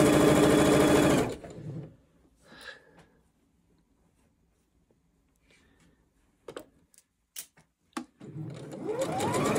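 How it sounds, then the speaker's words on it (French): A sewing machine topstitches a jacket in a fast, close mechanical whir, stopping after a second or so, then a few quiet ticks and clicks before the stitching whir starts up again at the end. "Je fais ma surpiqûre."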